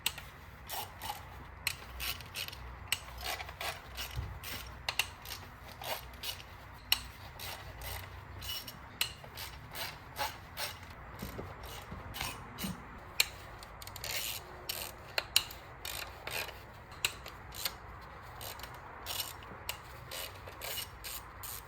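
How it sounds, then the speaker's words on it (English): A ratchet loosens the valve cover bolts on a Volvo S60 D4, producing steady runs of rapid clicking pawl sounds close up, broken by brief pauses and sharper knocks as the tool is repositioned. "So let me carry on with undoing the bolts."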